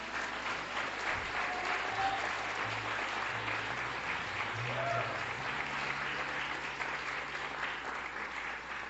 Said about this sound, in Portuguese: Vamos aplaudir Jesus pela vida dele.